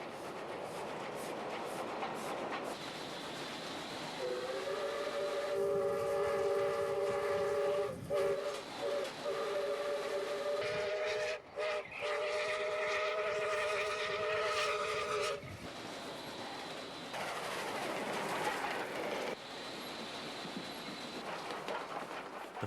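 A streamlined broad gauge South Australian 520 class steam locomotive sounds a loud, sustained multi-tone whistle for about ten seconds, framed by the rumble and clatter of the train passing close by.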